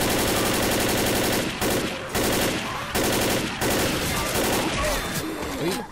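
Rapid bursts of automatic gunfire from the Left 4 Dead video game, loud and dense, broken by brief pauses between volleys with no talk.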